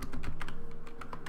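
Quick keystrokes on a computer keyboard tap out escape, colon, w, q and force to save and quit Vim, a fast run of close, crisp clicks with no talk.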